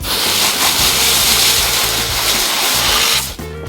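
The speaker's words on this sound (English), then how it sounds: "Take the spreader outside the court and wash it down before you roll up the hose and turn off the water." A hose sprays water over a tennis court spreader outdoors, producing a loud, steady rushing hiss that runs almost continuously before cutting off abruptly near the end, with a mechanical hum underneath.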